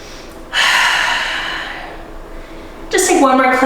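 Heavy breathing during a yoga flow, held in downward dog: a long, loud breathy exhale that fades over a couple of seconds, then a fresh strong breath begins near the end, close to the mic.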